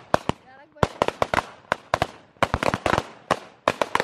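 Diwali firecrackers pop in a village in sharp irregular bursts, some in quick clusters, loud and close, with a brief voice sound early on.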